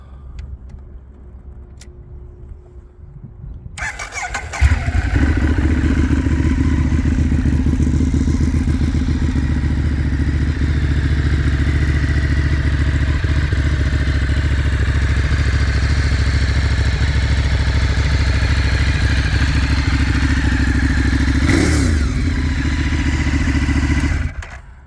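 A 2013 Ducati Streetfighter motorcycle with a straight-pipe Akrapovic exhaust fitted with silencers cranks and fires up after a brief quiet moment, then holds a loud, deep, steady idle close by with a short blip near the end.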